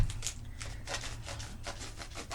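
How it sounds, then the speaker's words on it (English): Quiet, rapid scraping strokes as a chocolate bar is shaved into curls, a close, dry rasping rhythm of short repeated passes. "and then get them chocolate shavings"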